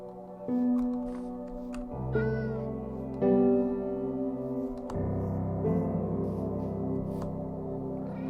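Several short meows from Minecraft video game cats, sounding over a dense bed of sustained game music tones, moderately loud with no one talking.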